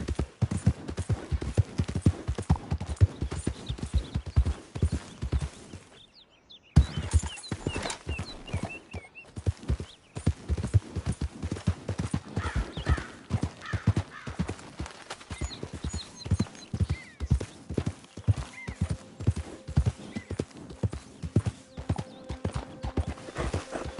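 Hooves of a horse galloping and trotting in Red Dead Redemption 2, a fast steady clip-clop rhythm close by, broken by a short pause, then resuming with faint ambient game sounds.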